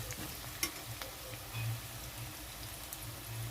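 Potatoes and eggs fry in a pan, a quiet steady sizzle broken by a few soft scrapes and knocks of stirring, heard close up without talk.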